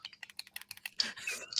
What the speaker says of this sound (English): What that is that you can hear is me clicking on your comments and scrolling through the chat.